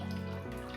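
Water carrying loose bean skins pours steadily into a colander over a bowl, a brief, soft, continuous splashing trickle.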